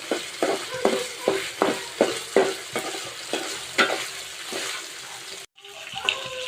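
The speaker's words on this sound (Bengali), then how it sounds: "পরে হচ্ছে সুটকিটা দিছি আর একটু আদা রসুন বাটা দিছি এখন একটু হালকা ভাজা ভাজা করবো" Spice paste, dried fish and ginger-garlic paste fry in a pan under steady, rhythmic stirring: repeated scraping strokes about twice a second over a continuous sizzle, with a brief pause near the end before the stirring resumes.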